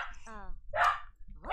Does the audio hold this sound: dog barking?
yes